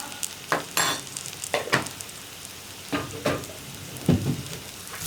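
Onions with turmeric, coriander and Kashmiri chili powder sizzle in a pan for an eggplant curry while a spoon stirs them. Soft frying hiss runs under irregular scraping strokes, with no talking.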